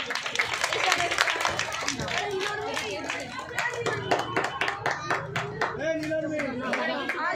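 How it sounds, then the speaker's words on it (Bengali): A crowd of spectators claps steadily at a school sports day, the applause rising and falling in dense rhythmic bursts while an announcer's voice and chatter carry over it. "জোরে হাততালি দিন"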